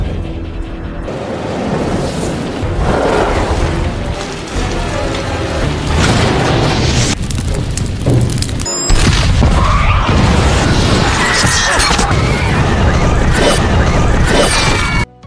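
An explosion in an action film bursts into heavy booms, crashing debris and shattering, loud and sustained with rumbling rolls over several seconds, then cuts off abruptly.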